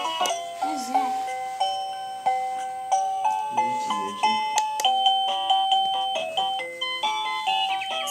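A Liztek wireless doorbell plays a Christmas chime melody of bright, bell-like notes in a steady, repeating tune, clear and close throughout.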